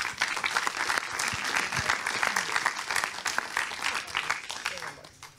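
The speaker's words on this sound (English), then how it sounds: "So please an applause to this foreign ministry." Audience applause at the closing of a tech conference in Thessaloniki, brisk clapping continuing for several seconds with voices mixed in beneath it.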